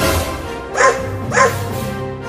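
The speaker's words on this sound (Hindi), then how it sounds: "मैंने तो गलती से कुत्ते को मार दिया" A cartoon dog yelps after being hit, two short, sharp cries about half a second apart, heard over a steady, dense background of music and noise.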